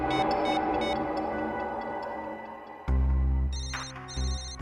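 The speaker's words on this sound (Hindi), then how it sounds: "रिंग यहीं पर बज रही है कहीं।" Electronic phone ringtone chirps in short repeated bursts, followed by a louder tonal ring pattern with a low hum underneath, heard indoors with no talking.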